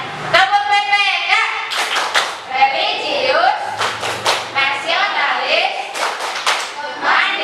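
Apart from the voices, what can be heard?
class clapping the PPK clap routine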